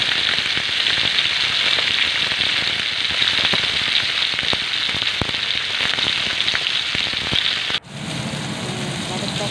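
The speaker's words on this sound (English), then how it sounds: "2 tablespoons of olive oil. Ayan. Prituhin natin yung salmon." Salmon fries in olive oil in a pan with a steady, loud sizzle and crackle that runs throughout, shifting briefly near the end, while a voice talks at times.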